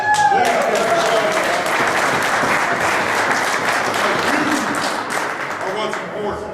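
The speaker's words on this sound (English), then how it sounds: "I want to hear a round of applause for everybody that showed up here." A rally crowd at a January 2020 Convention of States event bursts into loud, sustained applause and cheering, a dense wash of clapping that holds steady for several seconds, with voices mixed in.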